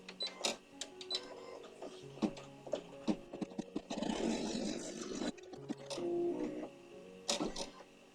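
An embroidery machine stitching an Easter basket design, with rapid mechanical clicks and whirs, short bursts of stitching and one longer continuous run in the middle, fairly quiet and close.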